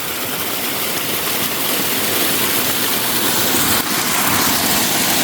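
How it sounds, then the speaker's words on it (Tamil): Water from a natural spring rushes in a forest in the Vanni region, making a dense, steady broadband hiss that stays loud and unbroken from start to finish. "இயற்கையாக தண்ணி வருது."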